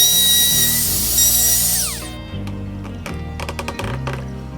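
A router with an angle bit cuts wood for a rotating gazebo floor, giving a high whine that spins down after about two seconds, followed by low hum and a few sharp clicks and knocks.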